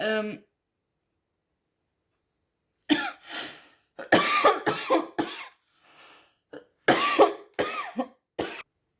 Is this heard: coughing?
yes